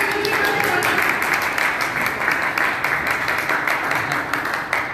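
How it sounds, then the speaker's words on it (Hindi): A crowd claps to welcome freedom fighters at a commemoration event, steady dense applause throughout with voices audible beneath it. "इनका तालियों द्वारा स्वागत कीजिए, इन वीर सेनानियों का स्वागत कीजिए"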